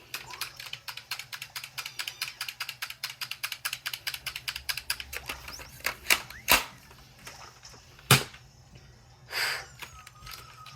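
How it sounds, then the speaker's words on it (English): Fingers type on a computer keyboard in a fast, even run of close, crisp key clicks, slowing to a few heavier separate presses near the end, with no talking. "typing."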